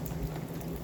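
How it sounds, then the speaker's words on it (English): Steady early-spring rain falls on a campsite with a clamshell screen tent and a teardrop camper, a dense, continuous hiss and patter heard up close with no gaps. "This is really cool to be out here in the rain."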